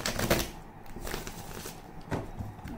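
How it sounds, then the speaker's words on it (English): Tarot cards shuffled by hand during a reading, giving a dry papery riffle with soft slaps and brief clacks, close and fairly quiet, with no talk over it. "one more shuffle."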